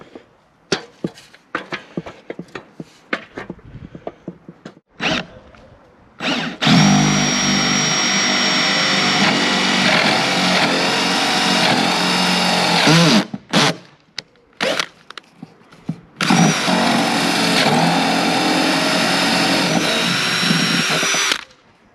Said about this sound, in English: Let's go on the roof and drill a nice big hole in the roof.